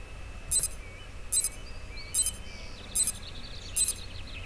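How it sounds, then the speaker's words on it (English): Five short, bright electronic chirps from a video game sonar detecting a wall repeat at an even pace, each a quick high blip over a faint steady background hum. "If the sonar detects a wall, it makes a sound like this."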